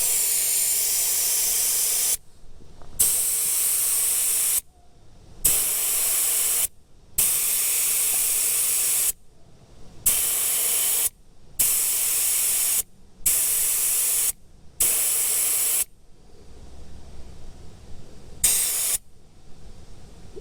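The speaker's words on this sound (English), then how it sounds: "And you'll let all of your air out." Air hisses out of a vehicle tyre through a tyre deflator, as loud steady bursts repeatedly cut off by short silences, then a quieter, fainter hiss trailing at the end.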